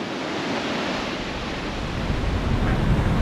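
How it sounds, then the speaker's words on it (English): Steady roar of a waterfall heard from a hiking trail, a dense wash of rushing water without breaks, loud and close, with no talking. "Oh, there's the waterfall."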